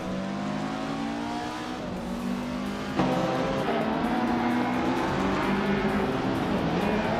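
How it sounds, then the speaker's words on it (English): A 1990 Subaru Legacy RS racing engine in a video game race on a tight circuit: a steady, loud droning roar with layered harmonics, briefly shifting pitch around a gear change, continuous throughout. "Shotskis is driving a Subaru Legacy RS from 1990."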